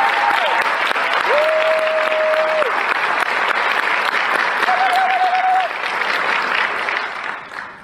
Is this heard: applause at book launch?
yes